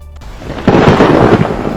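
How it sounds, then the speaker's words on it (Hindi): Thunder from a lightning strike during a storm in Solan, Himachal Pradesh, breaks suddenly as a loud, close rumbling crash that rolls on for about a second over a background of rain. "आंधी तूफान के बीच आसमानी बिजली गिरने के एक वीडियो ने हिमाचल के लोगों की टेंशन बढ़ा दी।"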